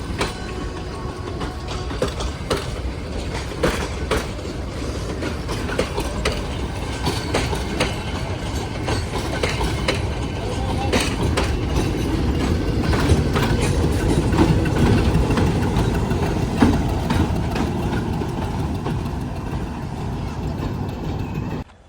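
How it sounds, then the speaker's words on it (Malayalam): A train rolls through a railway station with a continuous loud rumble and rhythmic clickety-clack of wheels, building slightly midway and fading off at the end, with no voices. "അപ്പോൾ അങ്ങനെ ട്രെയിനെല്ലാം പോയി"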